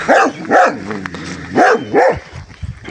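Several feral dogs bark loudly nearby in short bursts, a few overlapping barks with brief yips and whimpers between them.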